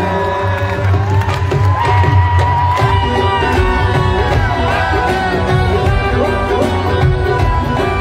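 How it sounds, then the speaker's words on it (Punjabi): A concert audience at a show in Athens, Greece, claps and cheers loudly and continuously, with whoops and shouts rising over a dense crowd roar. "ਤਾੜੀਆਂ ਵਜਾ"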